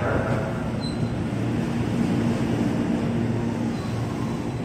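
A twelve-car JR 205 commuter train in new livery arrives at platform track 7 at Manggarai station, a steady low rumble and rolling rail noise that holds evenly, with a faint brief high squeal.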